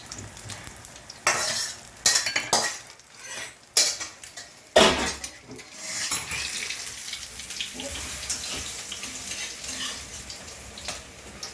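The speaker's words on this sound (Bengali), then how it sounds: "এদিকে পকোড়া ভাজা চলছে" Pakoras deep frying in an iron wok with a continuous bubbling sizzle, broken by sharp metallic scrapes and clatter of utensils against the pan, close up without talk.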